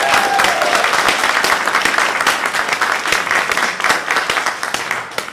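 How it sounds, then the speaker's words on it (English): A convention audience at a pun competition breaks into loud, sustained applause and clapping that fills the room for several seconds, with a few cheers mixed in. "round of applause for Michael, everybody"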